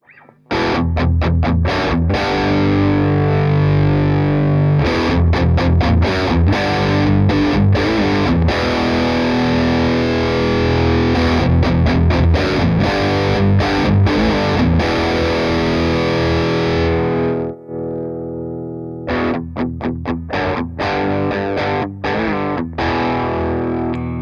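Loud, saturated electric guitar riffing through a Synergy Soldano SLO II drive channel with thick high-gain distortion, muted chugs and chords, a brief drop near the end before playing resumes.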